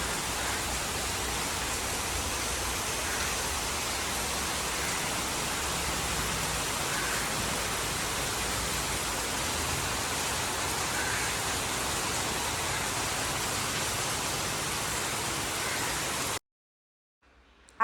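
Heavy rain pours down in a steady, dense hiss that holds evenly for about sixteen seconds before cutting off abruptly into near silence.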